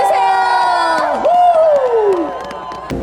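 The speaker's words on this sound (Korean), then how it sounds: "다 같이 박수 주세요" A loud crowd at a snow festival concert in Taebaek cheers and shouts continuously, with a voice over it and strong sustained noise filling the whole stretch.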